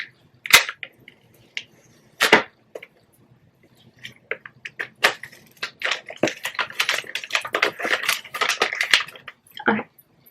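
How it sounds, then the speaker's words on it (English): An iPhone 12 Pro Max box in silver, 256 GB, is unwrapped, with sharp close crinkles and snaps of plastic film, sparse at first and then dense toward the end. "just gonna unwrap it"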